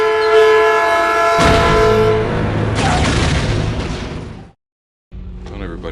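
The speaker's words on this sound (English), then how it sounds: "by train." A train rolls past with a sustained horn blast that holds steady and then cuts out, followed by rumbling wheels and clatter, ending in a sudden silence before noise resumes.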